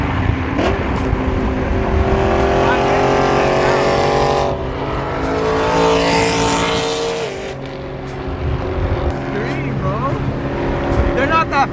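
Several loud cars roar past at a BMW car meet, engines rising and fading as they go by over a continuous rumble with one sharp high-pitched surge midway; people talk nearby through the noise.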